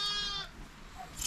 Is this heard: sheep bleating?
yes